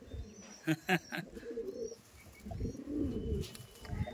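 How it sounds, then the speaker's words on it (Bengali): Andhra pigeons from a sale flock coo in low, soft, overlapping calls, with a few sharper notes early on and a continuous murmur of birds close by. "দেখুন কত পায়রা।"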